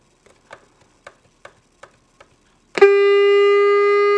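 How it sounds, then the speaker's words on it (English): A 1978 General Electric clock radio: a few faint mechanical clicks as it is set, then its alarm bursts on as a loud, steady electronic buzz-tone that holds unbroken, close by. "Let's set it to alarm."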